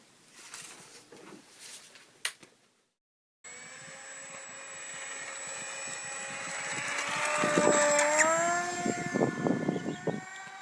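A Durafly EFX Racer RC model plane with added landing gear takes off, its electric motor whining steadily and rising in pitch as it speeds up and climbs, loud and close, with no talk over it.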